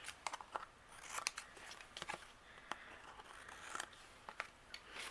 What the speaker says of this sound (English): I'm going to use my scissors and we'll trim away